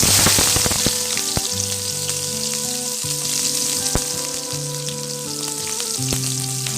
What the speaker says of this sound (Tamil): கருவேப்பிலை நல்லா வதக்கிக்கோங்க